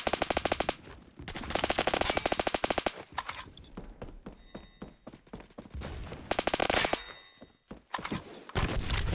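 M4A1 assault rifle fire in the Roblox shooter Phantom Forces comes as loud, rapid full-auto bursts, several strings of evenly spaced shots separated by short pauses with clicks and movement between them.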